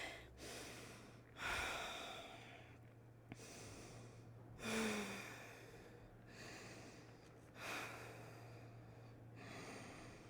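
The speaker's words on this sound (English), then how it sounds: "5 deep and steady breaths" Slow, deep breaths during a yoga forward fold, several long inhales and exhales in a steady rhythm, quiet and close over a low background hum.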